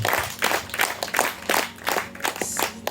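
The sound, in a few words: applause and clapping for Jesus in church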